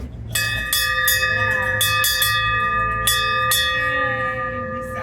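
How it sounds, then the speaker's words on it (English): A hand bell rings out in bright, metallic strikes, about eight clangs in an irregular rhythm with ringing tails between them, loud and close, while people talk quietly in the background. "And stand up and ring the bell."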